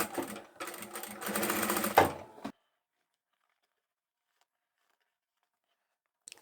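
Sewing machine stitching a fabric scarf scrunchie, a close rapid mechanical chatter running for about two seconds, then stopping abruptly into silence with a faint click at the end.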